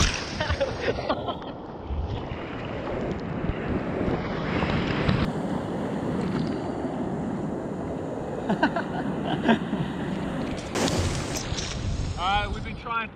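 Ocean surf and strong wind at Muriwai beach, New Zealand, make a constant roaring wash with heavy gusts buffeting the microphone. Voices come through briefly.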